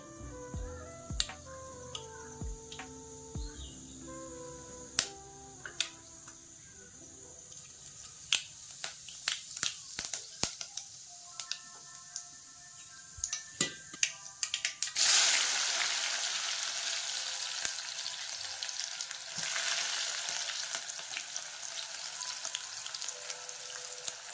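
Mustard seeds hitting hot oil in a home kitchen, a scatter of sharp pops and crackles growing into a steady close sizzle, with no talking over it.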